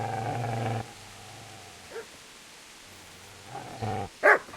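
A dog barks in Kingdom Come: Deliverance, a few short harsh barks spaced apart with quieter gaps between them, with no speech over the barking.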